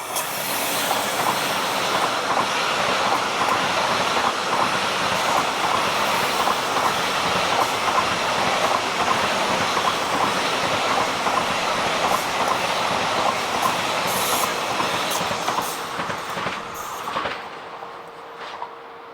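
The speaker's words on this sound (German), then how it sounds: "es sieht verdächtig danach aus, dass die Regionalbahn hier auf Halt fährt" A regional train rolling along the north-south line past the Burgsinn operations station, a loud continuous rumble with wheel clatter and rail noise that holds steady, then begins to fade near the end.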